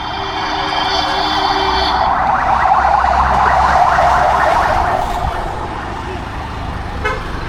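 An ambulance siren wails loud and close for a few seconds alongside honking traffic, then fades away into street noise.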